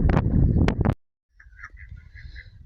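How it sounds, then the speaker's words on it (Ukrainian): A loud burst of quacking opens, then after a brief silence soft, repeated duck calls continue faintly over low background rumble. "Он качка хоче щось пробувати їсти, ловити, все"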